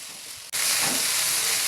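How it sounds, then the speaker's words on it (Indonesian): Spicy sausage fried rice with chili sambal sizzles loudly in a pan while being stirred, a brief quieter moment giving way to a sudden burst of steady frying hiss. "Kemudian diaduk-aduk sampai tercampur rata antara sambal pedas, sosis dan nasinya."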